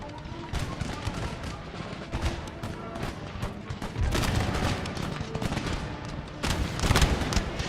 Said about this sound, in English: We're firing down the side of their line right here